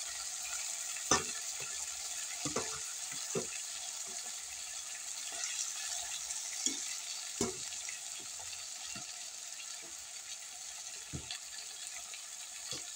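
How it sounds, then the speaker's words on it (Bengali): Potatoes fry in a hot pan with a steady, soft sizzle, broken by scattered scraping taps and knocks as a utensil stirs them. "এখন আলু দিই।"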